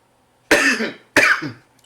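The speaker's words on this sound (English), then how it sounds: "That's the cough I'm talking about." Two sharp, close coughs in quick succession, each rasping and fading, with near silence around them.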